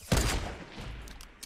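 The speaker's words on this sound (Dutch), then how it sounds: "Dat was een suppressed pistol." Suppressed pistol shots in the Fortnite battle royale video game: a sharp muffled burst at the start that fades into a short rumbling tail, followed by a few faint later cracks.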